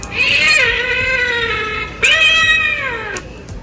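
A toy cat in a Halloween store gives two loud, drawn-out electronic meows close up, each falling in pitch, the second following a brief pause.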